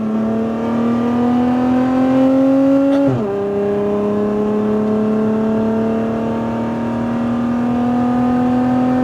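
A Lotus Emira sports car on a track at Speed Vegas holds a loud, close engine drone, then brakes hard with a quick downshift blip around three seconds before settling into a steady, slowly rising engine note.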